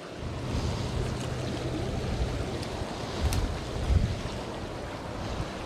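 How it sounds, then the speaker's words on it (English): Wind rises over open water during fly fishing in the mountains, a continuous rushing, buffeting noise with soft lapping of waves and occasional low gusts hitting the microphone. "Wind's starting to come up,"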